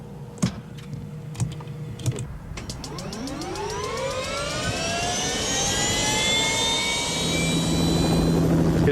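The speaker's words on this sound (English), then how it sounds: "For Max, the office is a Bell Jet Ranger 3." A Bell JetRanger III helicopter's turbine spools up with a rising, sweeping whine that grows louder and steadier, after a few sharp clicks at the start.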